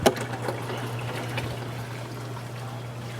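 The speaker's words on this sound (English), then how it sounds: "While we're waiting for the water to fill up" Water runs steadily into a Red Sea Max Nano G2 XL aquarium tank, a soft continuous trickle and pour with a faint pump hum underneath, beginning with a brief splash and then settling into an even flow.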